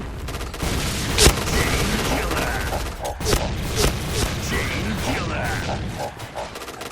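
Rapid bursts of gunfire in the shooter video game Point Blank, a string of sharp shots and clattering impacts over steady background game noise, with voices talking alongside.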